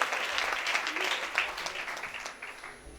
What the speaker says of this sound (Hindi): स्मार्ट वैल्यू के लिए एक बार जोरदार ताली होना चाहिए